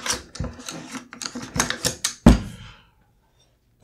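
A Smith & Wesson M&P-10 rifle bolt carrier with manganese phosphate finish is handled, giving a quick run of close metallic clicks and taps, one sharper clack, then silence.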